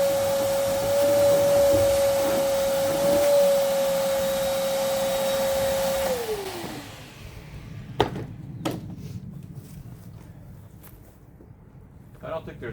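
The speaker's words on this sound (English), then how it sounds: "Help if I plug the vacuum in." A vacuum cleaner runs with a steady whine for about six seconds, then winds down and stops, followed by scattered clunks and handling noises in a workshop.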